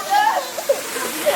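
Meenmutti waterfall in Wayanad, a broad steady rush of falling water close by, with a voice talking over it.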